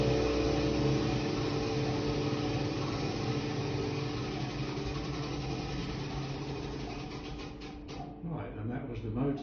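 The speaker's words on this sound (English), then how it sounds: "the motor did its stuff by lifting the weights back up again" Electric winding motor of a weight-driven parish church clock at St Andrews, Earls Colne, lifting the weights back up: a continuous steady mechanical hum and whir that holds throughout, then wavers and changes toward the end, with no talk.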